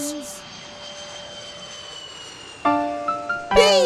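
An airplane sound effect in an animated children's song: a steady jet-like whooshing drone runs beneath sustained musical tones, with brighter melodic notes joining near the end.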